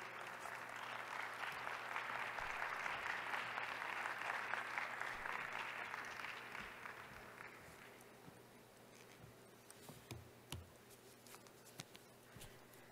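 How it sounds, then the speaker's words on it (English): A plenary session audience applauds steadily for several seconds, then the clapping thins out to a few scattered claps over a quiet room. "please give her a round of applause"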